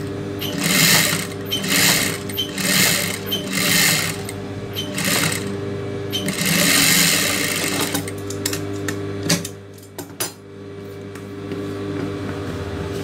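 A tailor's sewing machine stitches lace onto a blouse neckline in rapid mechanical bursts, several runs of whirring stitches separated by short pauses, close and clear with no voices.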